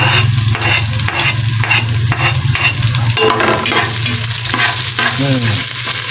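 Onions sizzling loudly in a pan for chicken sinigang, a dense close frying roar with repeated stirring strokes and scrapes and a steady low hum beneath, no talking.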